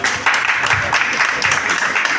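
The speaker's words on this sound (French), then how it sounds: "applaudissez encore un peu plus pour la dame" Audience applause following a pitch presentation at a pitch corner event, a short burst of dense clapping that stays fairly loud and steady throughout.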